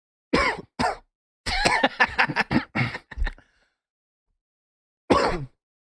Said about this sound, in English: I literally was just coughing